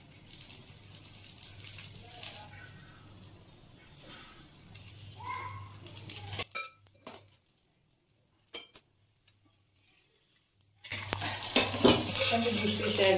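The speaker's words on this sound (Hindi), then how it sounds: "अभी आलू का परोंठा तैयार है। हम इसके ऊपर घी डालेंगे" Aloo paratha fries with ghee on a pan, a soft sizzle with occasional clinks and spatula stirring, dropping to near quiet midway before a louder burst of sizzling returns at the end.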